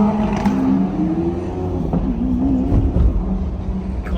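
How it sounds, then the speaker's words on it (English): Lamborghini Huracan and Porsche GT2RS supercars drive together in convoy through downtown Toronto in winter, a continuous engine drone with rising revs and a brief louder surge, fairly close. "Convoy with the Stradman and the Lambos and the GT2RS in downtown Toronto"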